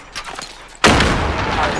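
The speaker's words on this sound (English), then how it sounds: "Bro, there's so many explosions going on." Explosions and gunfire in the video game Modern Warfare: after a quieter stretch, a loud burst of booms and shots hits suddenly and keeps rumbling on.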